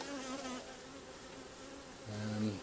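Steady droning buzz of many honeybees close by around a hive, a dense continuous hum with a louder low buzz swelling near the end.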